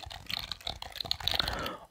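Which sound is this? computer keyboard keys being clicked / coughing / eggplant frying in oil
computer keyboard keys being clicked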